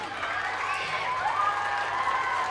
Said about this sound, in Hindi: जोरदार ताली हमारी साक्षी मैम के लिए।